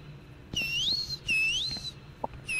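A whistle blown inside the co-op video game Backrooms Escape Together: two long rising-and-falling shrill blasts, clear and fairly close, with the start of a third cut off at the end, over faint game ambience.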